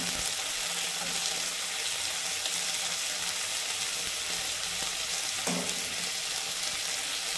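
Green chili paste and onion paste fry in a pan with a steady, loud hiss and sizzle that runs throughout, while a brief thud or clink comes near the end.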